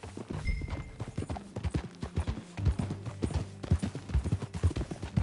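Continuous clip-clop of horse hooves trotting at a steady pace in the video game Red Dead Redemption 2, close by, with a faint low background hum.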